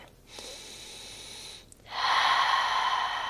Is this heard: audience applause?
no